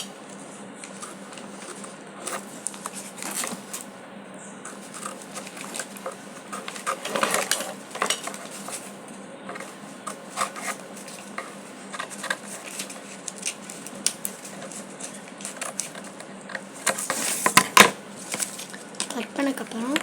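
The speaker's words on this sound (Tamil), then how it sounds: "இப்போ வந்து அந்த சர்க்கிளையும் வந்து நான் கட் பண்ணிடுவேன்" Scissors snip through paper while a circle is cut out for a sun-and-moon craft, giving quick, irregular crisp cuts and rustles close by over about twenty seconds, with occasional louder crinkles.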